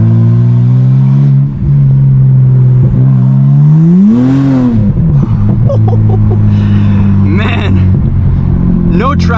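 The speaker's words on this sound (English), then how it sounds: "Those turbos." A turbocharged car revs hard and accelerates up close, engine pitch sweeping up and falling back around the middle, with tyres struggling for traction on the road and a voice talking over the steady roar.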